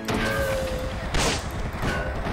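Gunfire bursts from the side-scrolling shooter game Cortex Command, a dense, continuous crackle of shots with a louder volley near the middle, fairly close and steady over a droning game background.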